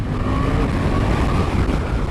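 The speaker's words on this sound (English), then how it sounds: "If you want to get a smooth downshift, you have to blip the throttle" A motorcycle engine hums steadily at close range while riding in traffic, with a brief throttle blip raising the revs in the middle during a downshift from fourth to second gear, no voices.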